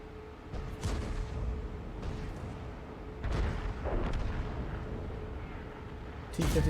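Heavy tank cannon fire from an IS-7 in the World of Tanks video game, with loud booming shots near 1 and 3.3 seconds and another at the end, over continuous rumbling engine and battle noise.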